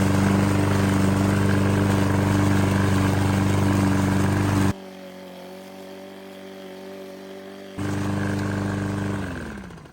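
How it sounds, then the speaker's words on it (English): An old Husqvarna self-propelled lawn mower runs with a loud, steady engine drone that drops sharply to a quieter idle for a few seconds, then comes back up before winding down at the end. "If you're thinking about getting a self-propelled mower, this is an old Husqvarna."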